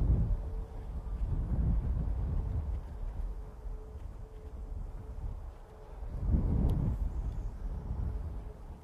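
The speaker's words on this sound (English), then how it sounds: "trying to stand up in this wind" Strong wind gusts buffet a bass fishing boat out on a grass mat on a hot, sunny day, a low rumbling roar that swells near the start and again in a strong gust about two-thirds of the way through, with no speech.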